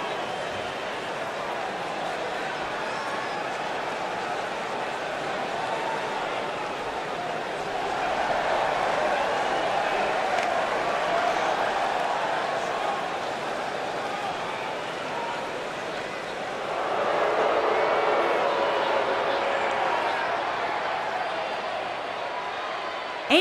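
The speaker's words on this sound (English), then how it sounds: "And Michael, it sounds to me like this crowd already picked the one who they want to win this match." Arena crowd in the WWE 2K19 wrestling game roars steadily throughout, a dense sustained cheer that swells louder around the middle and again near the end, with no clear talk over it.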